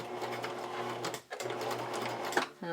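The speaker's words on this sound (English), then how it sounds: "I'm going to do a really wide zigzag stitch" Sewing machine running a very wide zigzag stitch over the seam of cut-and-sew bra padding, a rapid steady mechanical whir that pauses briefly midway, then resumes and ends with a short back tack, close and alone.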